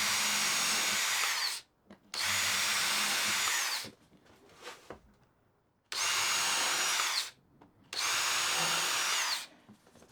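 A power drill drives screws into pine boards while building a wooden twist-lock saw vice, in four loud, sustained whirring bursts of about one and a half seconds each, separated by short pauses with faint handling noise.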